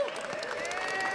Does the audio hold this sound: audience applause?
yes